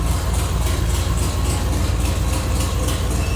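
A car engine missing its catalytic converter and entire downpipe runs loud and steady, a rough, throaty rumble with a continuous low drone that fills the whole stretch, close up with no talking.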